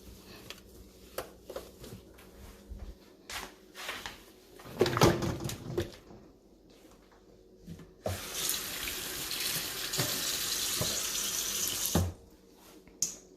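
Tap water runs into a kitchen sink filling with dishwater mixed with a little bleach: a few short splashes and clinks, then a loud, steady close rush of flowing water for several seconds before it stops.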